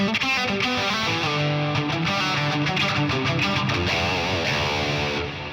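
A distorted electric guitar rings out through a delay effect, echoing repeats trailing each note, layered and sustained, played alone with no voices.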